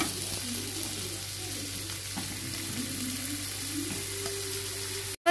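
Mushrooms frying with ginger-garlic paste and garam masala powder in a pan for mushroom biryani, giving a continuous, even, moderately loud sizzle with no voices.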